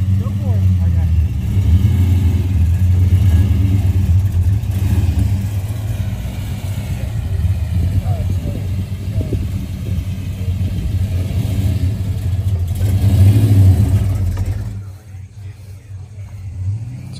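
A restored Plymouth Polara's engine rumbles and revs at a country car show, loud and close, with surges in intensity through the middle and a louder push near the end before dropping off; voices chatter in the background.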